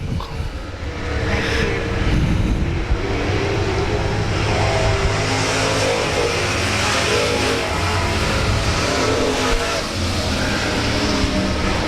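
Race cars circle a turn at South Texas Speedway in a continuous, loud engine roar, several machines overlapping into a steady wash that swells and fades slightly as they pass.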